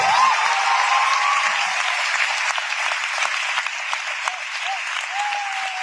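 Applause from a crowd, a sustained, even burst of many hands clapping, loud and close, with brief voices rising faintly over it.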